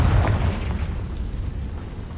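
A Confringo blasting-curse explosion from a Harry Potter video game: a heavy, low booming burst that rumbles loudly and then fades slowly over a couple of seconds.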